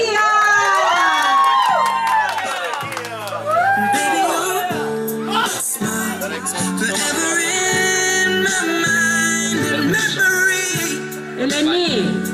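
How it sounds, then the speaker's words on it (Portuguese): A crowd at a neighborhood celebration for Dona Maria cheers and shouts with whoops and excited voices, loud and sustained over steady background music. "Galerinha, uma salva de palmas pra Dona Maria!"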